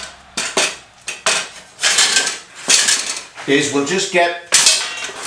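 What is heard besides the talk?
piece of aluminium being picked up and handled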